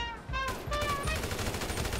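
Gunfire in GTA V during a Low Riders gang shootout: rapid repeated shots forming a dense, loud burst that runs for the whole two seconds with no voices.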